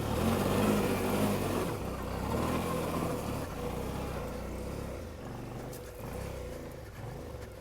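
A Suzuki V-Strom 650 motorcycle engine roaring at high revs as the rear wheel spins while climbing a hill, a loud sustained drone that rises and dips slightly with no voices over it.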